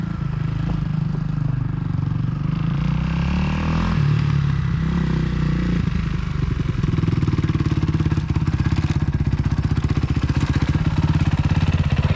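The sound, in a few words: dirt bike engine running then stalling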